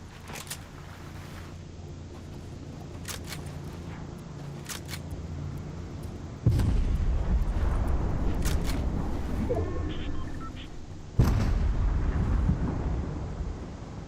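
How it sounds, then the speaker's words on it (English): Explosions in a Fortnite match hit as two loud, broadband booms with rumbling tails, the first near the middle and a second toward the end, over a steady game soundscape with scattered clicks and thin tones. "I can't tell where those explosions were coming from"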